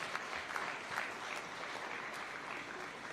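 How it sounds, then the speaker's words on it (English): Audience applause at a Taxpayers' Day award ceremony in Kenya, a dense, even patter of many hands clapping at moderate distance, sustained for a few seconds with no talk. "A round of applause for the NIS."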